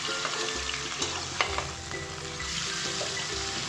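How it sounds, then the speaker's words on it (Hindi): Prawns sizzle in hot oil in a karahi, cooked dhaba style as jhinga karahi: a steady, close crackling fry with a few sharper spits and stirring knocks, no voices over it. "जैसे ही हमारा ऑयल गर्म होगा, हम इसके अंदर प्रॉन्स ऐड करेंगे"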